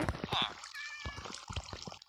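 A cat in the video game Minecraft meows twice in quick succession, short and clear, with other game sounds in the background.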